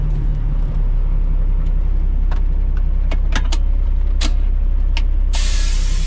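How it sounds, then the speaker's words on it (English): A truck driving off road on a barn construction site, with a loud steady engine drone and low hum, scattered sharp clicks and rattles, and a burst of hissing air near the end. "this truck is like a freaking mountain goat. This thing will go anywhere."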